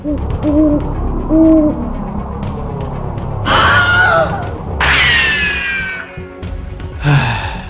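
An owl sound effect for a LEGO owl gives loud, clear hoots, two short hoots followed by longer sweeping calls, close and prominent over a low rumbling background.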